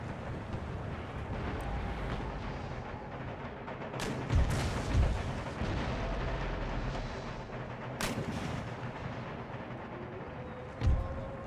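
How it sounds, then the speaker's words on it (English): Cannon artillery fire in the PC strategy game Empire: Total War battle, booming shots at a distance over a constant low rumble of battlefield ambience, a few distinct blasts spaced several seconds apart, no talking. "Bloody cannon being a pain in the ass."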